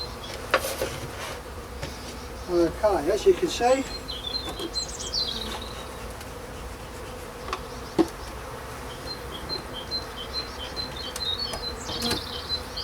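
Honey bees buzz around an opened hive during a March inspection, a soft continuous drone with a few louder passes close by, while a person speaks briefly and faint bird chirps come through in the background.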